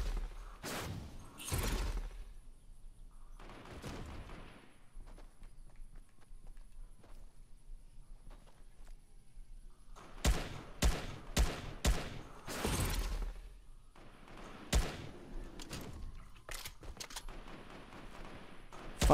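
Gunfire in the video game Fortnite, sharp bursts of rapid shots in clusters separated by quieter gaps, loud and close, with a busier volley in the second half.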